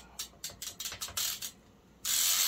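A ratchet tool tightens the titanium bolts on a custom Carver titanium bike, making several quick close clicking bursts followed by a sustained hissing whirr at the end.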